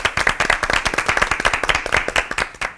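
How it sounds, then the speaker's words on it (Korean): A studio audience claps to welcome two pastors onto a Christian television program, brisk close clapping from a modest crowd, rhythmic and lively for a few seconds. "박수로 맞아주세요."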